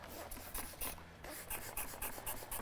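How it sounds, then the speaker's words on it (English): Repeated short spritzes of denatured alcohol from a spray bottle, a quick series of close hissing bursts with brief gaps between them. "I'm just gonna mist it with denatured alcohol."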